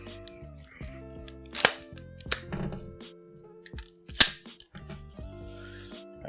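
Metallic clacks and snaps as an AR-15 rifle, an 11.5-inch lightweight SBR, is cleared and its action cycled, a few sharp close clicks with quiet gaps between them.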